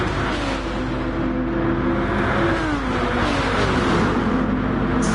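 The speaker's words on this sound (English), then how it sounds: "Four cars having a right good battle." Four racing cars battle closely in a PS4 racing game. Their engines whine and rev together at high pitch, loud and continuous, with the pitch rising and falling as they jostle for position.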